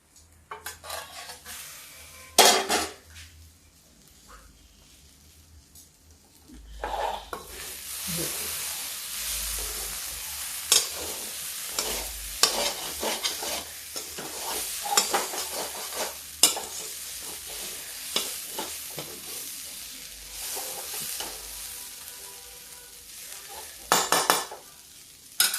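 A vegetable-filled savory snack cooks in a pan over a low flame, giving a soft continuous sizzle broken by bursts of spoon stirring and scraping against the pan, with occasional clinks of utensils.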